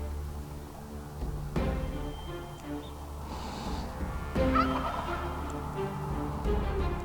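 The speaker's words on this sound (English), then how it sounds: "that is incredible how loud that is when they smack each other with their wings" Wild turkey gobblers fighting, gobbling and squabbling up close, with two sharp, loud wing smacks cutting through the steady racket.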